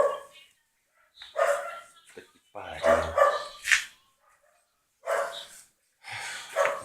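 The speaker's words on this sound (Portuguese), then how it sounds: "o cachorro latindo aqui" A dog barks in short bursts nearby, alternating with a man's irritated speech in Portuguese.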